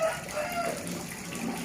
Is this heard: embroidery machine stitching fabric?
no